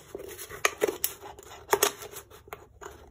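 Scissors snip through a thin aluminium beer can, making a string of sharp, irregular metallic cuts and crinkles, close and fairly quiet with short pauses between strokes.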